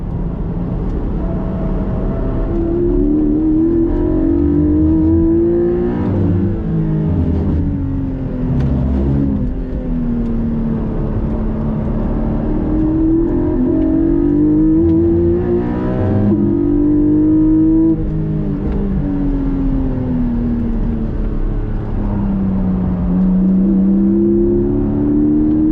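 A 2021 Porsche 718 GTS accelerates on the road, its engine loud and close from inside the car, pitch climbing and dropping through repeated gear changes over a constant road rumble.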